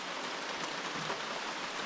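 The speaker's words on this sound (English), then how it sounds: "it looks like we got a rainy day here" Rain falls steadily on an outdoor camp in the Blue Ridge Wildlife Management Area, a constant close hiss of drops with no break and no voices.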